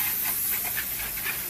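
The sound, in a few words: spraying engine degreaser from a can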